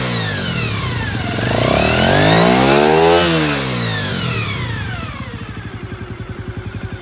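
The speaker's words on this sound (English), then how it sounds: "you can hear a rev from the engine through from the exhausts" A 1997 Honda Dream 50 (AC15) small motorcycle engine revs up sharply to a high whine, then drops back to a steady, throbbing idle, loud and close.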